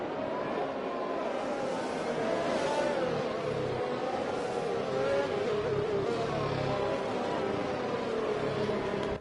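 Race cars on a formation lap at the Netherlands Grand Prix in a racing game give a continuous, moderately loud engine drone with rising and falling pitch as they run in a group, under someone talking.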